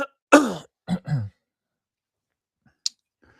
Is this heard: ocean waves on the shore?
no